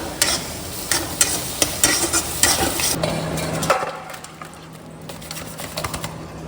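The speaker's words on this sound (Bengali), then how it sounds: "এখানে রান্না হচ্ছে মাছের ঝাল" Fish curry of rohu, morala and prawns simmering in a home kitchen pan while being stirred, a spoon scraping in repeated strokes over a steady sizzle that quiets after about three seconds into a softer bubbling.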